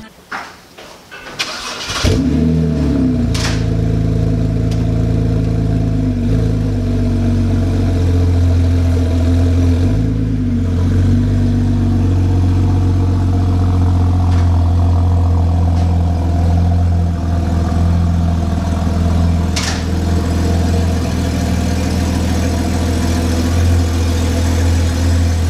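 A BMW 330i fitted with a custom dual exhaust cranks and fires up near the start, then settles into a steady, loud, deep idle that hums evenly for over twenty seconds with no talking.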